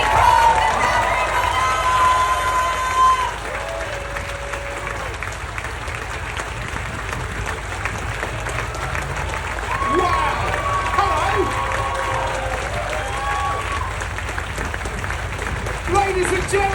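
A large outdoor crowd at the Adelaide Motorsport Festival applauds and cheers to welcome guests onstage, with continuous clapping and shouts throughout and a swell partway through.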